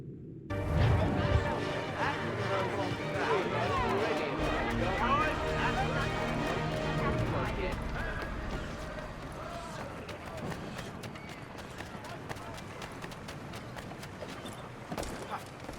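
Horse hooves clip-clop at a steady walking pace in Assassin's Creed 3, under layered music and ambient game sound, with a rhythmic clatter that fades slightly later on.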